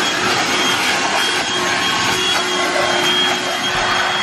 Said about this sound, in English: I try and vacuum it out often so I can keep it clean